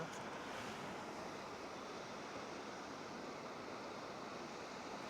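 Water pours down a mountainside at Vattakanal waterfall, a steady, dense broadband rush that holds at an even, moderate level throughout with no voices over it.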